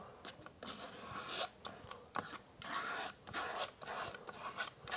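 Paint scraped across a beach-scene canvas in a run of rasping, gritty strokes, close and fairly quiet, with short pauses between passes and no talking.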